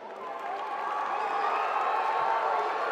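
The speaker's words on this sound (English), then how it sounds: "Her exit was very similar to her entrance, some applause and mostly loud boos from the audience" At a youth summit in Baltimore, a large crowd gives a steady, distant-sounding wash of applause blended with loud booing and cheering that swells over a few seconds.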